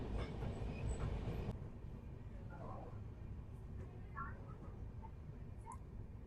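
The 12813 Steel Express train arriving at Chakulia station, a steady low rumble of rolling wagons that drops slightly in strength partway through, with faint metallic squeaks and clicks above it.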